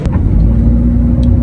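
A Honda Civic EK with a MAF sensor fault pulls away in a loud, steady, close low engine rumble, with no talk.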